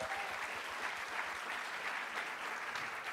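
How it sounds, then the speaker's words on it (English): A live audience at a women's football event applauds in a steady, dense round of clapping that holds evenly for a few seconds, moderately loud and without talk. "I think that deserves a round of applause"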